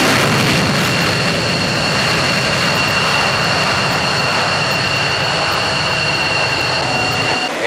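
A fighter jet from the 119th Happy Hooligans at Langley AFB roars through an afterburner takeoff, a loud continuous broadband rush with steady high whine tones, heard from on board without talk.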